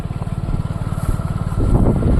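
A motorcycle engine rumbles steadily with a pulsing throb as it rides along, growing a bit louder and rougher toward the end.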